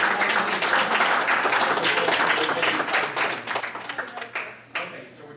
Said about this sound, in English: Give Rose a round of applause.